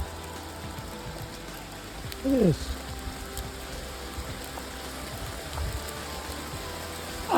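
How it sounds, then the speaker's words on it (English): Hail patters steadily on the ground and gear along the Appalachian Trail, a dense, even hiss of small impacts close around, with a brief spoken remark partway through. "It's hailing out."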